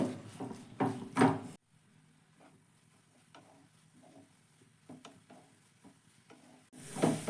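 Grated coconut filling simmering with jaggery in a pan, a soft, faint sizzle with occasional light scraping and stirring taps, framed by louder clatter at the start and end.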